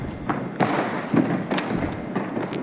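Diwali fireworks set off at night near a rooftop, heard as several sharp cracks and thuds spread irregularly over a steady crackling, hissing background, moderately loud and a little distant, with no talk.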